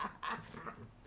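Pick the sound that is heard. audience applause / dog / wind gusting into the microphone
dog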